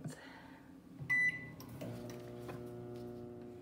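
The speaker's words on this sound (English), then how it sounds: "I'm going to put this in the microwave" A microwave oven set to melt butter, with a short bright beep from the keypad followed by the low steady hum of the oven starting up and running.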